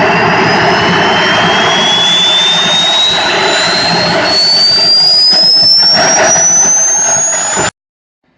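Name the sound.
Swiwin model jet turbine starting up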